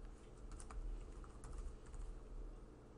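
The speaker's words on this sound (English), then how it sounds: "And then you'll need to type in their password as well." Quick, close clicking of a computer keyboard as a password is typed, a rapid run of soft keystrokes alone and quiet for a few seconds.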